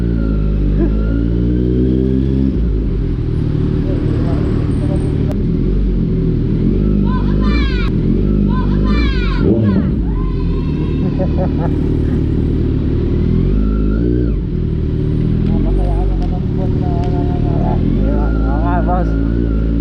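Kawasaki Z900 motorcycle with a slip-on exhaust and deleted catalytic converter, revved repeatedly, loud and close, its engine rising and falling in bursts while people talk over it throughout.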